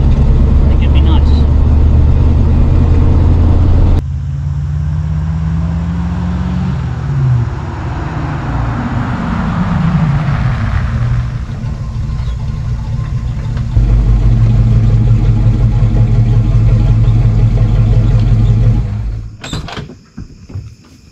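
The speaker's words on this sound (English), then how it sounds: "I learned that you can hold this truck to the floor indefinitely and the motor won't blow up." An old rusted Chevy K10 truck's engine drones loudly and steadily at full throttle, its pitch shifting as the load changes, then dies away near the end, with speech heard over it.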